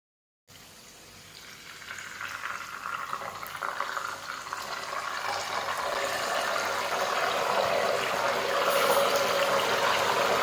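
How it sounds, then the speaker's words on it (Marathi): Turmeric and salt water is slipped into hot frying oil for banana wafers, setting off a dense, rising sizzle and crackle that swells steadily and holds loud to the end. "हळदीचं आणि मिठाचं पाणी करून ठेवलं होतं ना त्यातलं एक ते दीड चमचा पाणी आपल्याला या तेलामध्ये अगदी हळुवारपणे घालायचं आहे"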